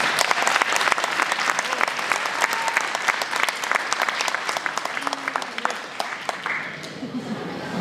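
Audience at a political debate in Thérèse-De Blainville applauding to welcome the candidates, a dense sustained burst of clapping that thins out and fades toward the end, with faint voices underneath.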